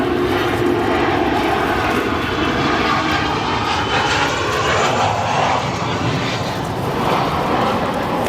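Heavy jet freighter departing O'Hare, a loud continuous roar of engines at takeoff power that rises and shifts as it passes, with no break throughout.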